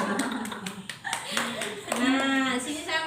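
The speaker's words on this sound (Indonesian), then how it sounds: "Tepuk salut untuk Ibu Lela." A group claps in a rhythmic cheer pattern during a community health session on prenatal care, with a voice talking and calling out over the claps.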